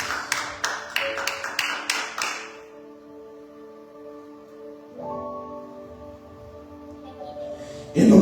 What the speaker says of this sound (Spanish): Dele palmas al Rey de Reyes.